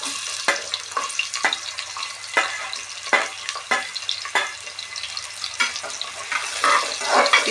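Onions tipped into hot oil fry with a crackling sizzle for tomato bath, punctuated by repeated spatula clacks and scrapes at an uneven rhythm, close and fairly loud.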